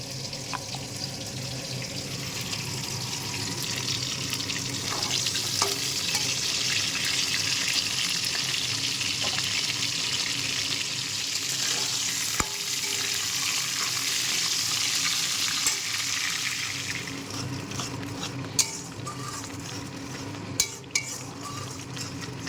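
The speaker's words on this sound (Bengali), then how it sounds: "মশলাটা সুন্দর করে কষানো হোক" Spices with tomato, ginger, green chili and cumin fry in oil, a continuous hiss with soft stirring and scattered utensil clinks, ending in a few sharper knocks.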